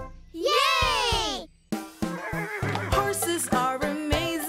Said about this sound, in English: Horses are amazing.